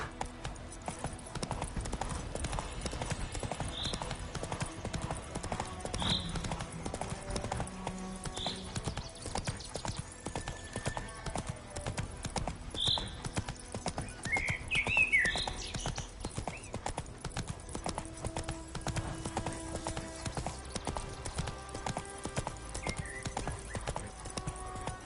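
A horse ridden in the video game The Witcher 3 Wild Hunt gives a steady, quiet clip-clop of hooves that runs on without a break. An occasional whinny rises over the hoofbeats.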